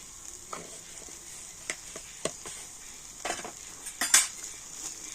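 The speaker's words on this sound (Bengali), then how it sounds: "আমি সমস্ত মশলার সাথে তো আলুটা কিন্তু খুব ভালো করে নাড়াচাড়া করে নেব" Potatoes and spices are stirred in a pan with a utensil, giving sparse metallic scrapes and clinks against the pan over a faint sizzle, close and quiet, with no talking.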